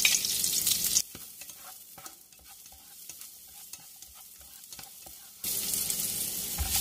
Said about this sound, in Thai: จะใส่พริกกับกระเทียมลงไปผัดเลยค่ะ